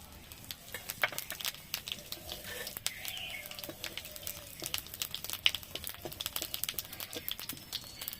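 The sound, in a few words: dried red chillies and whole cumin frying in oil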